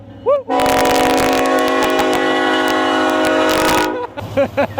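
A train horn blares in one long, loud, sustained honk over a low rumble, cutting off sharply, with brief voices before and after.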